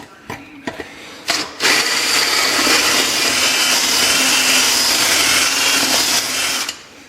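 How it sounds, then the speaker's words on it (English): A few short clicks, then a power drill drilling out rivets on a 1959 GMC Apache Fleetside pickup whirs loudly and steadily for about five seconds before winding down. "we're just in here drilling out these rivets"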